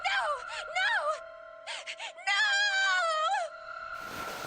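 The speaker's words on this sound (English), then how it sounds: "It was an eerie scream full of insanity and not entirely human." A voice from the Zero Escape 999 video game lets out an eerie, wavering scream that rises and falls in three broken bursts, moderately loud, before cutting to a short burst of noise.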